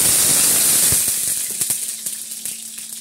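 Garlic hits a hot pan of oil with fenugreek seeds during parwal bhaja cooking, a loud hissing sizzle that settles into scattered crackles and pops, with no talk.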